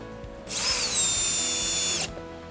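A milling machine cuts an aluminum bicycle frame part held on a fixture with a threaded slug inside, giving one loud, steady high-pitched whine that lasts about a second and a half and then stops abruptly.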